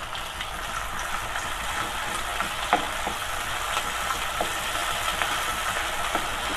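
Onions with garlic-ginger paste fry in a pan, a steady sizzle broken by small clicks and scrapes as they are stirred, with no talking.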